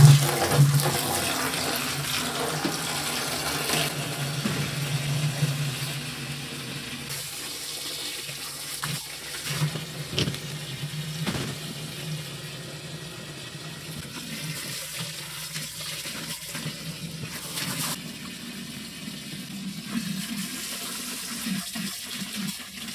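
Water runs steadily into a hydroponic drip irrigation reservoir set up for growing chillies, a continuous rushing fill like a tap pouring into a tank that lasts throughout, moderately loud and alone with no talking.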